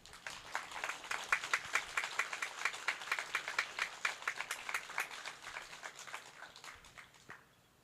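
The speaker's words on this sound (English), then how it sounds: "another round of applause for our Mixed Media Award recipients" Steady applause from an awards-ceremony audience at an art competition, many hands clapping in a dense rhythm for several seconds before tapering off, fairly faint and distant.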